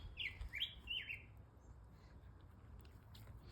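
Birds chirping close by outdoors: a few quick, bright tweets in the first second over a faint, steady outdoor hush, then only quiet background.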